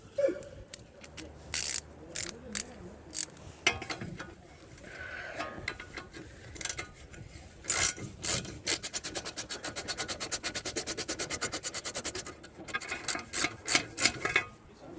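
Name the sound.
17mm wrench removing a castle nut from a tie rod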